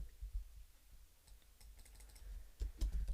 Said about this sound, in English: Type in a generic word